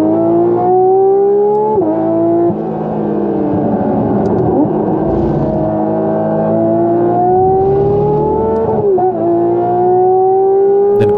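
Porsche GT3 RS and GT3 race cars in a race, one closing on the other through the final sector: a loud, sustained engine drone whose pitch climbs steadily, with sharp gear-change dips near the start and again later, and no talk.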